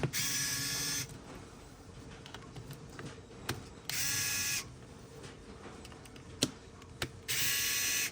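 Screws are loosened on a Xerox 78xx fuser during a rebuild, with three long bursts of whirring power-driver noise between faint clicks, ticks and sharp mechanical snaps.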